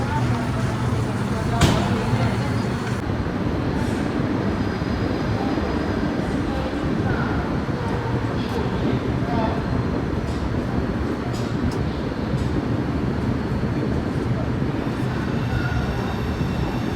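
AC superfast express train pulling out of SMVB Bengaluru bound for Howrah, a steady loud rumble and clatter of the moving coaches heard from on board, with a brief sharp noise early on and faint voices under the din.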